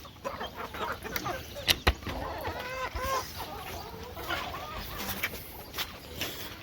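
Backyard chickens cluck in short, repeated bursts at close range against a rough outdoor background, with a couple of sharp knocks in between.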